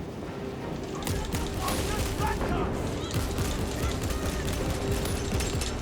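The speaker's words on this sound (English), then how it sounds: "So I'm going to spend my time firing at the tough enemy units." Gunfire in the video game Warhammer 40K: Space Marine 2 during a wall defence, a dense continuous clatter of rapid shots and mechanical rattling that stays loud and steady throughout, mixed with battle noise.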